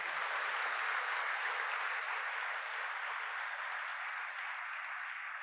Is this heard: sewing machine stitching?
no